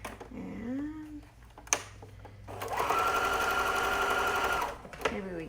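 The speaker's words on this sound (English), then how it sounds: "I have been sewing without a bobbin" A home sewing machine, running without a bobbin, stitches a kids' hoodie in one steady whirring run of about two seconds after a short, quiet lead-in with a faint vocal sound, then stops with a click.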